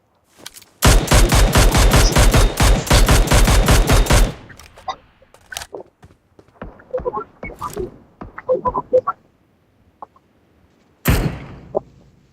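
Rapid automatic gunfire from a 3v3 team shooter game, a loud sustained burst of about three and a half seconds, then scattered quieter shots and clicks, ending with another short loud burst.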